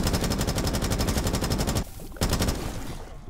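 A rapid burst of gunfire in a Call of Duty Black Ops 6 zombies match. A sustained stream of evenly spaced shots breaks off briefly, then a second short burst follows. The shots are loud and there is no talk.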